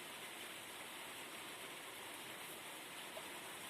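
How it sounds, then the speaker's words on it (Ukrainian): Steady rain falling outdoors in Kryvyi Rih, a light but continuous broadband hiss with no distinct drops or voices. "Майже з 11 дня іде наразі дощ на дворі."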